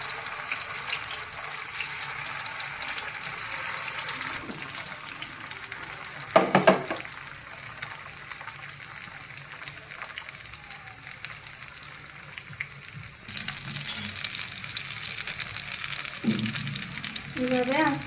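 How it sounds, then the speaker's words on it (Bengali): Fish kebabs fry slowly in hot oil over a low flame, giving a soft, steady sizzle up close. A few louder clatters come as the pieces are moved or turned, and a brief watery hiss rises near the end. "এটা আস্তে আস্তে ভাজতে হবে"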